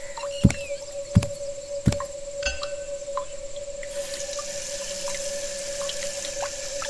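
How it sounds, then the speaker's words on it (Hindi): Water splashing as a face is washed in an animated Hindi horror story set at a post office: three quick close splashes early on, then softer trickling over a steady background hum. "उसने अपना चेहरा धोया"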